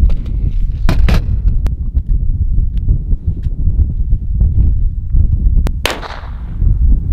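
A .22 Short pistol fires at a bulletproof backpack outdoors. Several sharp, loud cracks ring out at irregular intervals over rumbling background noise.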